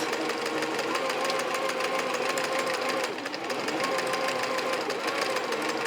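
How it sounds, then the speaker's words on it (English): Sewing machine stitching down appliqué fabric pieces, a steady fast mechanical whirring and chattering that runs continuously, close and loud, with a brief slowdown midway. "This is just tacking my applique down like you would with a blanket stitch or a satin stitch."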